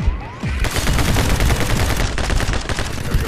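Rapid gunfire from the action game My Friend Pedro, a dense, loud stream of automatic shots that starts after a short lead-in and keeps rattling without pause.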